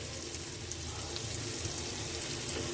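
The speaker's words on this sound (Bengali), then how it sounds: "ভালো করে কষিয়ে নিব" Spices and chilies frying in a pan for Malabar spinach with prawns give a steady, close hiss and crackle that holds at an even level, with no voices.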